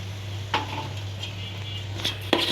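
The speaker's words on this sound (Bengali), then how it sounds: "এই মশলার ভিতরে পুরোটা চাউল আমি 10 মিনিট সময় নিয়ে আমি কষিয়ে নেব চাউলটাকে" Rice being stir-fried in spice paste for hilsa bhuna khichuri, a soft steady sizzle with a low hum beneath and a few sharp scrapes of a spatula against the pan.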